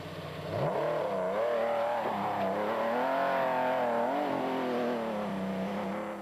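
Rally cars race past on open flat stretches, engines rising and falling in pitch as they accelerate and shift, loud and close with a steady roar across the pass, no voices.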